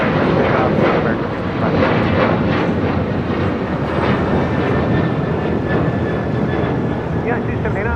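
Airliner jet engines roaring during takeoff at LAX, a loud, steady rumble filling the whole stretch without a break.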